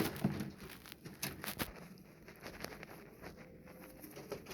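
Pigeons coo softly amid scattered pattering and rustling, a faint mix of low cooing calls and brief flutters, with no talk heard.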